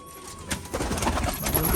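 Rajshahi pigeons at a home loft coo softly and rustle nearby, a short low cooing under faint background noise.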